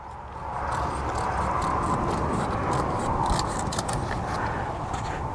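Steady snipping and crunching as a plant's stalks are cut back outdoors, close and continuous over a rustling background.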